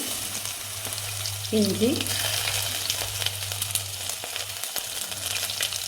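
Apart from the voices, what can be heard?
mustard seeds, fenugreek and garlic frying in hot coconut oil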